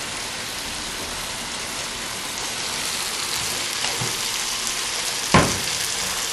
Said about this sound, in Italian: L'acqua per le orecchiette sta già bollendo.